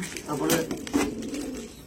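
Pigeons just collected after transport give two soft, low coos about half a second apart, under a man's nearby speech and background noise.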